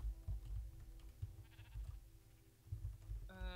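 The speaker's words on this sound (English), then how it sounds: "Oh, wait, sheep, guys." Sheep bleating in the video game Minecraft, a few short bleats heard over a steady low background rumble and game sounds, with a brief electronic tone near the end.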